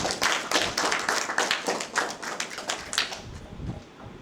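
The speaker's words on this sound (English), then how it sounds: "Give him a clap." An audience claps steadily for about four seconds, a dense patter of many hands slowly thinning near the end.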